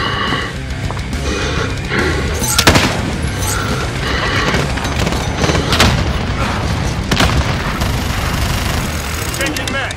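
A cruise missile strike in Call of Duty: Modern Warfare, heard as a continuous roar of heavy explosions and booming blasts with sharp loud impacts scattered throughout, dense and close.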